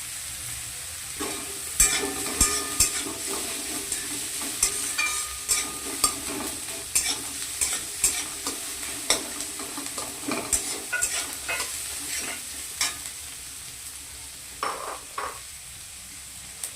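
Chopped green chilies frying with onions in a pan for chow mein, a continuous sizzle broken by frequent rhythmic spatula scrapes and clatters against the metal, close and moderately loud, no voices.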